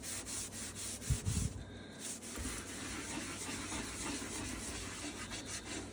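Steady rubbing scrubs at a greasy oven coated with oven cleaner, a raspy back-and-forth scouring close by with a few bumps and knocks early on and no speech.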